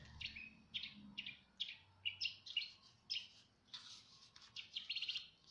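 Birds sing outdoors in a steady series of bright, chirping phrases at a moderate distance, each call short and evenly spaced, with no voices over them.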